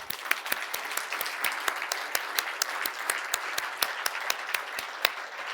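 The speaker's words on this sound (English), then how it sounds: "let's give a round of applause to our 4 awardees" Applause for four awardees at a gala dinner, many hands clapping in a steady, dense patter with distinct sharp claps standing out near the front, continuing evenly throughout.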